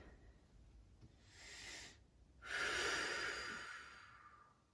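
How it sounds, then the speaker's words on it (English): Two soft, slow cleansing breaths during a yoga practice, the second fuller and longer than the first, heard alone and fairly faint in a quiet room. "Perhaps take a few cleansing breaths."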